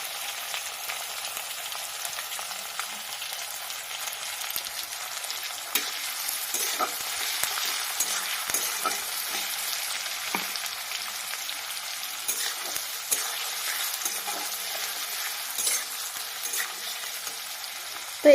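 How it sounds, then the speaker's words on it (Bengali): Chopped onion frying in oil with panch phoron and whole cumin, a steady soft crackling sizzle with faint stirring scrapes throughout, close and continuous with no talking. "তো এটাকে আমি হালকা লাল লাল করে ভেজে নেব"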